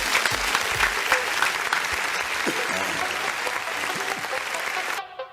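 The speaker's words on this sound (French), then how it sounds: "On va l'applaudir très très fort, s'il vous plaît." An outdoor Fête de la Musique audience applauds a Chadian rapper being introduced, a loud, dense clapping that holds steady and then cuts off abruptly near the end.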